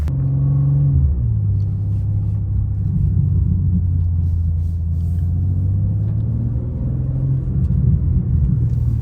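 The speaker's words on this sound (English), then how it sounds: "Car sounds really good though." A car engine rumbles steadily and loud from inside the cabin while driving, a deep continuous drone that shifts slightly in pitch as it goes, with no talking.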